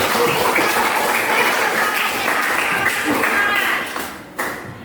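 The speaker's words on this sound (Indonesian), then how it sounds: "tepuk tangan dulu untuk kita semua" A class at a teaching-practice session claps together, a close, busy patter of hands that holds steady for several seconds before thinning out near the end, with voices mixed in.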